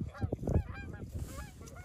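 Canada geese honk repeatedly and ducks call as big flights come in to land at a field decoy spread, a busy, fairly distant chorus of overlapping honks with wingbeat-like rustle and no talk.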